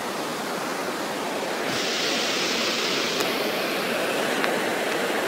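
The Yegualasco river flows under a bridge in Veracruz, heard as a loud, steady broadband rush of water that thickens slightly partway through and carries on without pause.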